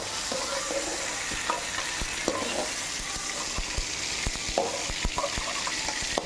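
Tomatoes sautéing in a pan for a sour-greens (gongura) thokku, with a steady soft sizzle and repeated scraping stirs of a spoon against the pan, close by and without talk.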